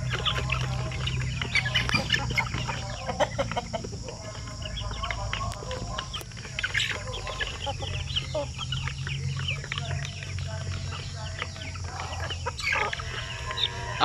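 Basilan breeder chickens cluck and murmur in a backyard farm setting, with a rooster crowing at times, overlapping calls near and far over a low steady hum.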